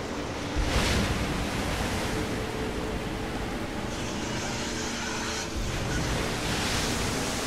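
Rushing water and surf crash continuously in the Rise of the Tomb Raider game near a whirlpool sanctuary, a loud, dense wash of noise with swells around one and five and a half seconds and no talk.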